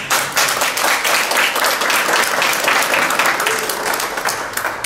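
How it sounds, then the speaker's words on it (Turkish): Loud, sustained applause from a crowd at a Circassian handicrafts exhibition fills the space, dense clapping that swells and then holds steady without speech. "Bir alkış istiyorum."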